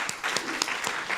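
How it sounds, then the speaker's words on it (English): Audience applause at a Center for Spiritual Living service, a short burst of dense, steady clapping heard up close. "So let's clap for them all."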